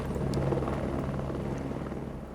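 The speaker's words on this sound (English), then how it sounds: "Oh, the chopper's already coming back." Helicopter in the hospital management game Project Hospital, a steady rotor drone and whine arriving at a hospital, continuous and fairly loud throughout with no talk.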